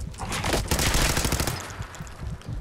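Rapid bursts of pipe auto pistol fire in Fallout 4 crackle loudly and close, a fast automatic string of shots that rattles on for about two seconds.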